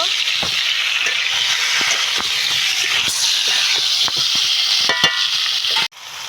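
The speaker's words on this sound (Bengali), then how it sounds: "নুনটা দিয়ে আবার একটু নেড়ে নেব" Mango pieces and salt are stirred in a pan for mango pickle, giving a steady hissing sizzle with scraping strokes of a spoon at irregular intervals and a brief knock near the end, with no talking.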